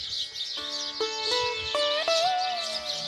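A dense chorus of small birds chirping and twittering continuously, high-pitched calls overlapping with a few clearer whistled notes rising above.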